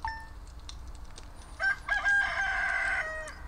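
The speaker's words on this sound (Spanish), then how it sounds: "El gallo." A rooster crows once in a long, bright, stretched call over a soft ambient bed, with a short synthetic quality typical of game audio, from the farming game Stardew Valley.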